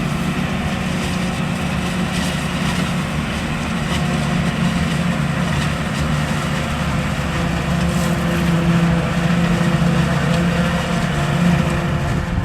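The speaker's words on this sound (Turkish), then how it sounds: "Bizim buranın vazgeçilmez traktörü Timosa." A Tümosan tractor engine runs at a steady idle, a loud, continuous low diesel rumble with an even throb that holds unchanged throughout, with no talking.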